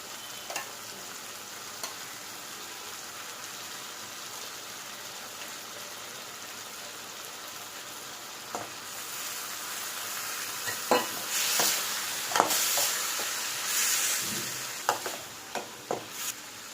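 Boiled liver frying with onion-tomato masala in a pan, a soft steady sizzle that builds after several seconds into louder stirring scrapes and clicks near the end, close and with no talking.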